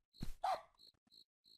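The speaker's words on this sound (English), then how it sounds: "Bark." A dog in the video game NNNNNIGHT gives two close, sharp barks, followed by faint chirping, cricket-like game sounds.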